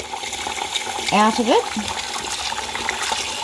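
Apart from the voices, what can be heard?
washing rice in warm water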